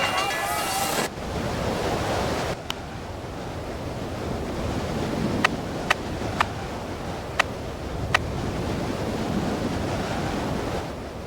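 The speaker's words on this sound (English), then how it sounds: "The slight crosswind shouldn't be a problem for the skiers." Wind buffets the microphone at an alpine ski race, a constant roaring gust with faint clicks scattered through it, and a brief brighter hiss at the start.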